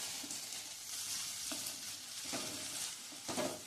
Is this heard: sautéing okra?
yes